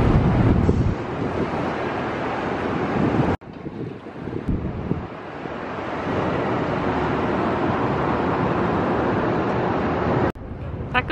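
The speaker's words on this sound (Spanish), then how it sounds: "Es el lago, el río." Steady gusting wind buffets the microphone beside a lake or river, with a broad rushing wash of water and air filling the whole stretch, briefly cut off twice as the recording drops out.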